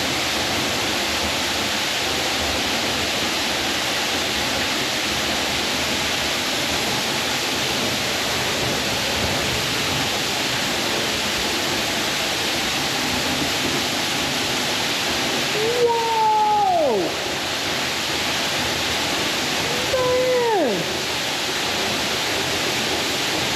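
A steady broadband rush of a waterfall fills the scene at moderate distance, constant and even throughout, with two brief tonal sweeps near the end riding over the water noise.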